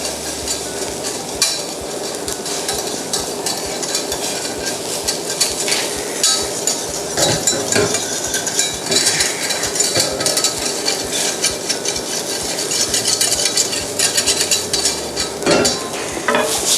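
A cream sauce with fennel bubbles and sizzles as it reduces in a pan, with a steady busy crackle broken by occasional stirring scrapes and utensil clinks, close and continuous with no talking.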